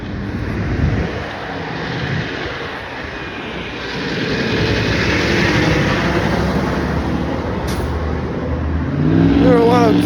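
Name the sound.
school buses driving past on the street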